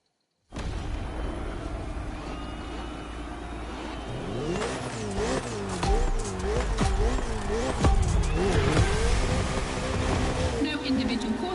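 Race cars in The Crew Motorfest, a Ferrari against a Red Bull car on a circuit, engines revving and climbing through gears, loud and steady, with layered game sound effects and no talking.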